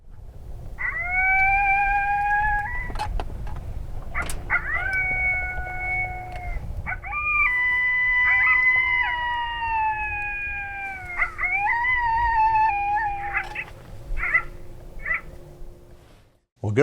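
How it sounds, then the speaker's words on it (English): Coyote pup serenade played through a hunting caller, a run of rising and falling yips and wavering howls in several bursts over about sixteen seconds, loud and close, with a steady low hum beneath. "so now I'm going to play a pup serenade."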